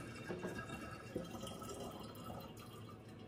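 Dense sugary water is poured into a glass demijohn for peach and apple wine, giving a continuous quiet gurgling splash of liquid with small drips, and no speech.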